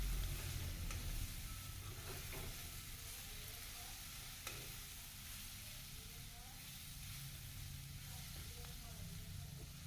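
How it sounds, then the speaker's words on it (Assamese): Meat cooking with banana flower in a pan sizzles steadily while a spoon stirs it, scraping and turning the pieces in short bursts over a constant frying hiss. "তাৰপিছত মাজতে মই এনেদৰে আকৌ এবাৰ লৰাই দিম।"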